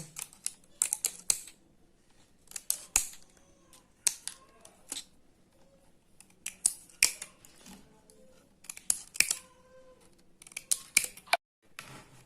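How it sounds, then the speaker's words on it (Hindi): Scissors snip through paper in quick, crisp bursts of cuts separated by short pauses, close and clear against a quiet background. "जैसा कि यहाँ पे हम एक कैंची की मदद से पेपर काट रहे हैं"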